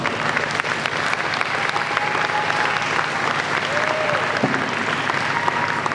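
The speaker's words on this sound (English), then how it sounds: "Let's give them a round of applause." A crowd at a celebration of the Americans with Disabilities Act anniversary claps in sustained, full applause, continuous and fairly loud, with faint tones drifting underneath.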